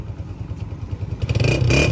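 A Honda 125 motorcycle kick-starts and its engine catches, a low rumbling putter that rises into a steady, louder idle toward the end with some mechanical clatter.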